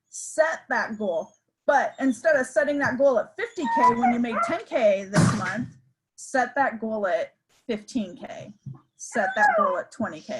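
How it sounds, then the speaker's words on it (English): A puppy whimpers and yips at a window, faint, high and intermittent in the background beneath nearly continuous close speech. "the puppy is having a fit in the window"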